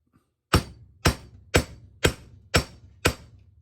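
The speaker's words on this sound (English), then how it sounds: "So I'm going to come in here and hammer that flat" A hammer flattening a 5/8 metal piece for chickadee legs and feet strikes six times at an even, steady pace, each blow loud, close and ringing briefly, with no talking.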